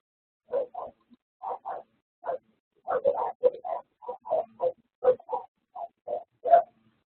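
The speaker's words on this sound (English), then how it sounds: "It sounded like a dog." A dog barks in about fifteen short, separate bursts, some single and some in quick pairs, at moderate level with quiet gaps between them and no talk.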